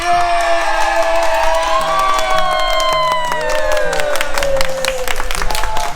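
A seminar audience breaks into loud cheering, whooping and applause that continues throughout, with shouted voices and bright tonal sounds riding over the clapping.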